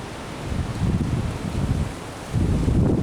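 Wind blows outdoors across the microphone in steady low rumbling gusts, filling the whole stretch with a rough continuous noise.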